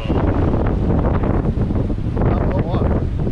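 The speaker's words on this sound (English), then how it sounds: "Winds have been in the 30s, steady." Strong wind of around thirty knots roars while sailing off New England, a loud, continuous, buffeting rush against the microphone with a voice faintly present beneath it.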